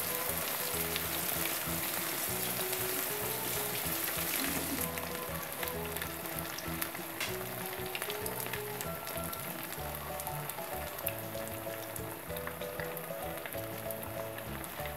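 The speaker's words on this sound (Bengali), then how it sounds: "ব্রাউন কালার করে চাপগুলোকে ভাজতে হবে" Beef chaap fries in a pan over medium heat, giving a loud, continuous close-up sizzle and crackle with dense spattering pops that holds steady throughout, with no voices.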